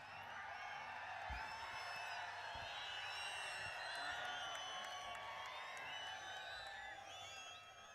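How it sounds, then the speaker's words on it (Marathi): A large crowd at a political rally for Sanjay Raut, Uddhav and Raj Thackeray whistles shrilly and continuously over a layer of clapping and cheering, faint and distant, with many overlapping whistles throughout. "शिट्या आणि टाळ्या माननीय उद्धव साहेब आणि राजसाहेबांसाठी आहेत."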